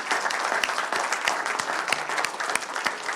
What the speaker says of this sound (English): how about a round of applause for all of our sponsors?